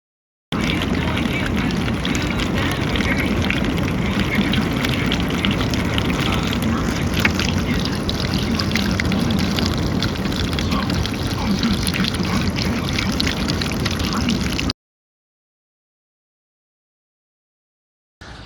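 Dense, steady patter of heavy rain drumming on a DEERFAMY pop-up camping tent close overhead, a constant hiss that runs for a long stretch before stopping abruptly.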